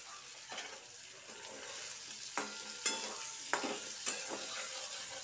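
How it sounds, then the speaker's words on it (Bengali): Egg fries with onion and garlic in a pan, a steady bright sizzle punctuated by several sharp scraping stirs in the second half, close and fairly loud, with no talking. "আমি এইভাবেই আজকে হালকা মতন ডিমটা রান্না করব"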